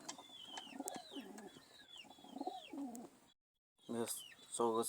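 A pigeon coos softly in repeated rounds while other birds chirp, and a person speaks toward the end.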